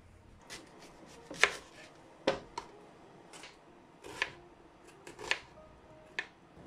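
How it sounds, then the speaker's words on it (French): A knife chops an onion on a cutting board, about a dozen crisp, irregular strikes spaced apart, quiet and close with no talking. "nous allons tout simplement venir couper notre oignon"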